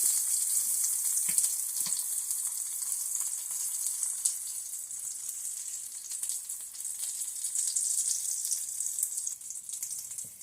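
Gluten-free wraps fry in a hot pan with a steady, bright sizzle that runs unbroken, with faint crackles and small pops and no voices.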